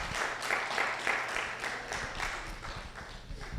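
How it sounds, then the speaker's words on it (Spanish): An audience at an evening church service claps for a couple, a dense wash of applause that swells and dips in waves for a few seconds. "Otro fuerte aplauso a esta pareja hermosa."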